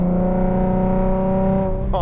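A tuned Ford Mustang with a 3.7 engine holds a steady, smooth idle-like rev near 3,000 RPM, a close, even purring drone with strong low harmonics throughout, shifting slightly at the very end.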